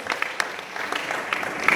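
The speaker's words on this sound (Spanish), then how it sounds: "Regálele un fuerte aplauso al Rey." A church congregation applauds during a service, a short, fairly faint patter of clapping with a few sharper claps standing out and some voices mixed in.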